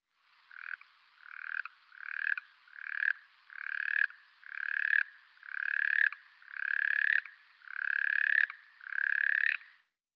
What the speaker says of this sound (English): So that's the Watson's tree frog.